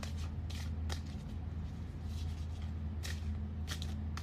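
Tarot cards being shuffled for a reading, a steady papery riffling with brief louder bursts over a constant low hum, no talking.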